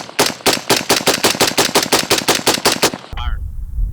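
Rapid bursts of suppressed 5.56 rifle fire, about eighteen sharp evenly spaced shots over three seconds, loud and close, ending abruptly into a low rumbling tail.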